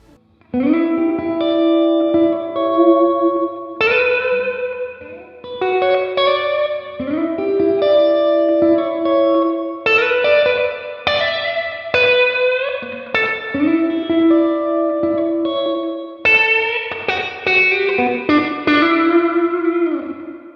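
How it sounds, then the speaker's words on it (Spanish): Electric guitar played through a Tube Screamer pedal with overdrive at its minimum and added reverb, sounding as ringing strummed chords and arpeggiated notes with a lush, lightly driven, atmospheric tone, loud and continuous with no talk. "nuestro Tube Screamer pero con el overdrive al mínimo de su valor. Y agregamos un poco más de reverberación como para sentir un poco la atmósfera."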